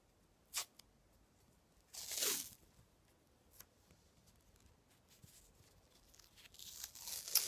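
Hockey tape being pulled and torn off while taping a stick blade, with a short rip, then a longer louder tearing stretch, and faint crinkling and ticks close by with no talking.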